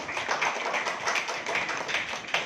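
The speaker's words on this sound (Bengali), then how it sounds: "বাট এম রাহিমের জন্য একটা তালি চাই" An audience at a press event claps for a film director, a busy spatter of many hands clapping together at moderate loudness, steady throughout the short stretch.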